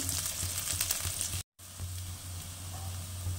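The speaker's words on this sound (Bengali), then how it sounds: "বেগুনটা ভালো করে লাল করে ভেজে নিতে হবে" Eggplant frying in hot oil for a winter greens dish, a continuous close sizzle with crackling bursts, broken by a brief silent gap before the frying resumes at a slightly softer level.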